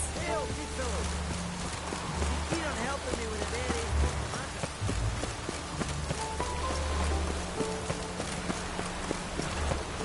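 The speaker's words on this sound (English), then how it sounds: "It's raining buckets!" Rain falls heavily in a video game, a dense continuous patter of drops under steady rhythmic hoof-like clops and scattered game effects, with some speech mixed in.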